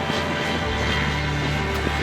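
A paramotor engine drones in flight over Chimaltenango, a loud, steady buzzing hum with a low throbbing propeller tone that stays constant and close throughout.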